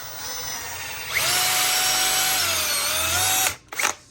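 A close electric drill spins up and whines steadily for a couple of seconds, then winds down and stops.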